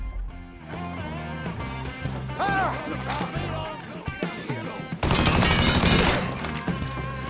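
Bursts of gunfire in the video game Mafia III crackle through a busy combat mix, rapid shots clustering into a loud dense volley near the end.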